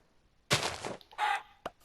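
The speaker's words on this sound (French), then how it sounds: "Un poulet. C'est toujours ça." A chicken in a survival video game gives a couple of short clucks in quick bursts, close and fairly quiet, separated by brief pauses.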